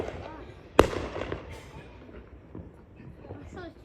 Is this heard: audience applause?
no